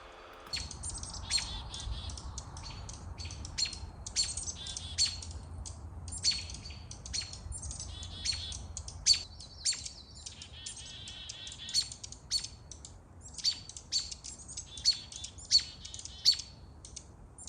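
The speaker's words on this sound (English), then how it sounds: "a chorus of different alarm calls coming from the same tree is often a good sign of a roosting owl" Songbirds mob a roosting owl in an Alaskan spring forest, a dense chorus of sharp, repeated alarm chips and squawks from several birds in one tree, continuous and busy, moderately distant and fairly faint.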